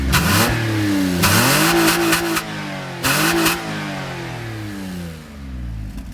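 Peugeot 406 Coupé 3.0 V6 heard from outside as the engine is revved hard twice, each rise climbing sharply then falling back, followed by a longer rev and a settle toward idle; loud and close with no talking.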